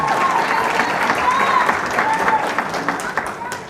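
Applause and cheering from a crowded audience at the 2013 Golden Apple Gala teacher awards, with whistles and shouts rising over steady dense clapping that fills the room throughout.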